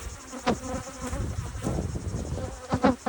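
Angry honeybees buzz around an open hive during requeening, a close, uneven insect drone with louder passes as bees fly near.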